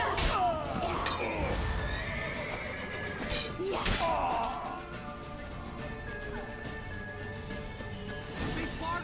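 A horse whinnies and neighs in The Witcher video game, with a loud neigh near the start and another around four seconds, among crashes, thuds and hoof clatter in a busy, chaotic scene.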